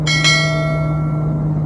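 A single bright bell chime rings out, struck once at the start and left to ring with a clear tone that fades slowly in a quiet setting.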